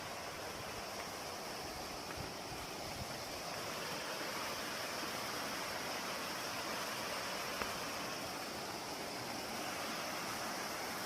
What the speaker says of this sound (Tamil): சின்னதாக ஒரு அருவி ஒன்று போகுது.